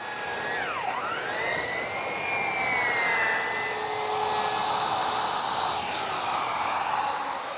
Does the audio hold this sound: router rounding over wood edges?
yes